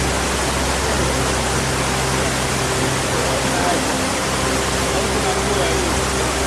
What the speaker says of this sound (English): The water kept cascading over the rocks.